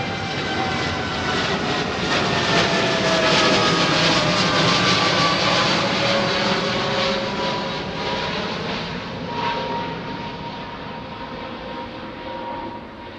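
Jet airliners departing Heathrow runway 09R pass low overhead, a loud sustained engine roar that swells and slowly fades, heard alone without talk.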